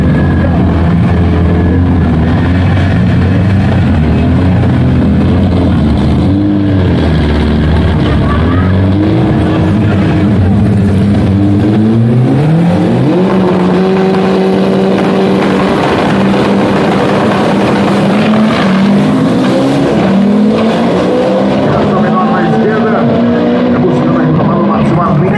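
A Chevette OHC turbo car engine revs loud and close, its rising and falling drone holding steady throughout with a whining pitch sweeping up and down, while voices talk over it.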